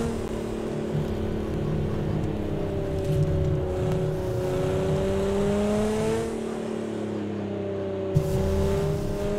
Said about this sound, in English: We're doing a hot lap down the California highway here.